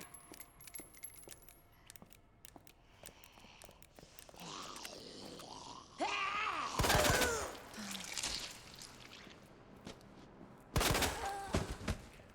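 Gunfire in Resident Evil 2 Remake: two sharp, fairly faint bursts of shots break through quiet game ambience, separated by a few seconds.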